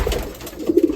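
Racing pigeons coo softly in a loft among young birds, a few low throaty coos rising near the end over faint shuffling.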